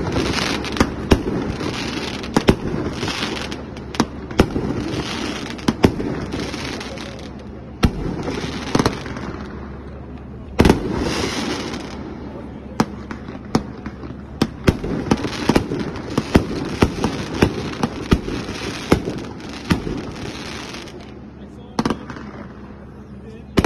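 A Temple of Dreams 20-shot consumer firework cake fires in a series of sharp launch thumps and bursts at irregular intervals, with crackling between shots and people talking in the background.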